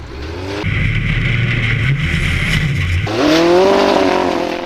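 Off-road buggy with a 4-cylinder 2.4 litre Honda engine on an Icelandic Formula Offroad course, engine roaring loud and close at steady revs, then rising sharply in pitch as it accelerates hard near the end.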